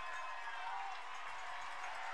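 A football crowd at DeSanto Field gives a steady, distant roar of cheering, with faint talking mixed in.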